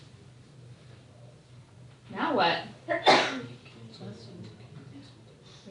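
A sharp sneeze bursts out in a math classroom during a lecture, two quick loud bursts close together, with a brief spoken remark nearby.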